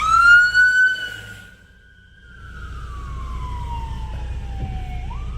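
An ambulance siren wails loudly nearby during a tornado in Portage, its tone sliding down in pitch as it passes, with traffic rumble underneath.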